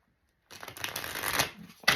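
A deck of cards is shuffled up close after a brief silence, a quick papery riffle of flicking cards.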